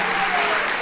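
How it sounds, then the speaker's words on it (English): A full crowd claps steadily at a band pops concert, a dense and even burst of applause, close and loud throughout the moment. "Give her a hand"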